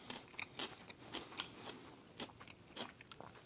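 Close, quiet crunching of a bite of tangy coleslaw dressed with mustard and celery seed, a quick series of crisp chews and small wet clicks with no talking.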